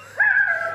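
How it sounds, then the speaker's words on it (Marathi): A single dog-like yelp rises and then holds as a drawn-out whine for under a second, fairly loud, heard on the stage of a Marathi TV comedy show with no talk over it. "कुत्रा आहे तो कुत्रा"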